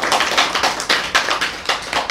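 Applause from a small audience at a religious talk, a quick run of hand claps and taps roughly two seconds long, fairly close and with no voices.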